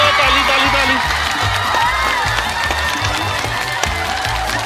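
Children clap and cheer at a money game, a dense, loud crowd of clapping and shouting voices that carries on steadily without a break.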